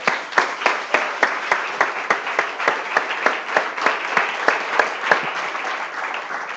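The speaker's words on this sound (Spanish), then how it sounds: "Démosle un aplauso al Señor, hermano." Congregation at a Spanish-language church service claps in a steady, loud rhythmic beat, sharp unison claps roughly every third of a second over a bed of crowd applause, with no talking.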